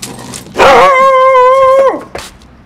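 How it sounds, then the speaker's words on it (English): A dog close by lets out one loud, drawn-out, howling bark lasting over a second, followed by a short softer yelp. "Let's see if I can get here without getting barked at."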